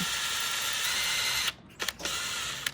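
A 3/32 bit drills through a patio screen door frame, a steady high whirring grind for about a second and a half, then cutting off into short bursts and clicks as the bit breaks through.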